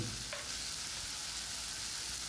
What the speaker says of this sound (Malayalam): ഇപ്പോൾ നമുക്ക് പൊടികൾ ഒക്കെ ഒന്ന് ചേർത്ത് വഴറ്റണം